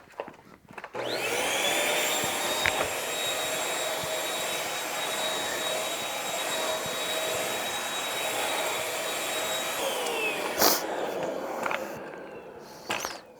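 A Bissell Featherweight vacuum cleaner runs with its floor attachment, a steady loud whine and roar sustained for most of the stretch, with brief bumps and clicks near the end as it is moved and switched.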